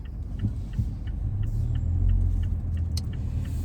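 A car being driven, heard from inside the cabin as a steady low engine and road rumble with light rattles and clicks, with no voices.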